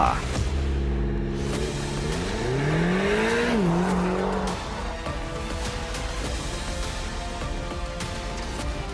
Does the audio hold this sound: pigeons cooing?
no